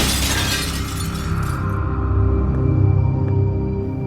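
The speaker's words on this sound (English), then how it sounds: "With his secret revealed, Crane wisely smashes the one item that can be used to find him." An object smashed by Crane in The Wolf Among Us video game bursts in a loud, close shattering crash at the start, then fades into a lingering low hum and scattered settling debris.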